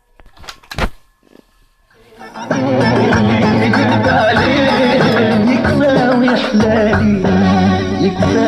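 Sony radio cassette recorder playing a tape with a faulty motor speed: clicks and a brief thump at first, then steady loud playback from about two and a half seconds on, continuing to the end.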